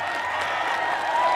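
A short burst of applause, a dense patter of clapping hands at moderate loudness, lasting about a second and a half.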